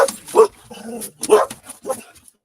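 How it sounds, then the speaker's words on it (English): A dog barks close by, a quick series of four or five sharp barks in an uneven rhythm. "That was Mr. Jasper barking"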